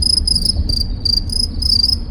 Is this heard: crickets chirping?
yes